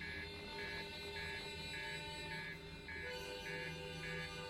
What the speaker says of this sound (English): Master alarm. Boy, this ship must be in really bad shape.